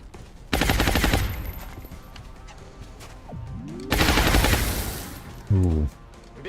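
Gunshots in XCOM Long War: two long, loud bursts of rapid automatic fire separated by quieter sounds, with a short sharp blast near the end.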